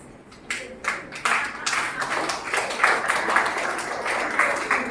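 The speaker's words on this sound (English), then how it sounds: "A big round of applause to our dear Sister Joy, the guest of honor of the day" Applause welcoming the guest of honor at a school society's jubilee inauguration, starting with scattered claps that swell into a dense, sustained patter from a large audience.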